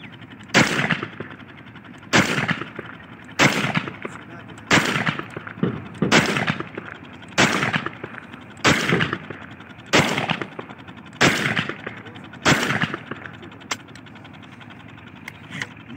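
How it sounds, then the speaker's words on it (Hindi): Single shots test-fired from a 30 bore M4-style gun: about ten loud, sharp reports at a steady pace roughly every one and a half seconds, each trailing a short echo, with no talk. "अभी इस पर जो है ना टेस्ट फायर करते हैं"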